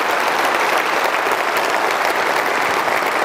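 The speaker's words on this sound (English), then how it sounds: "I think that's worth a round of applause." A large audience applauds after a PlayStation 3 demonstration at E3 2005, with steady, dense clapping that fills the whole stretch at close, even loudness and no talking.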